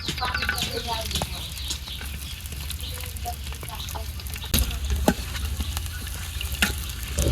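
Green chili slices, chopped garlic and onion frying in hot oil in a wok in a village kitchen, with a steady loud sizzle throughout and a few sharp clinks of stirring.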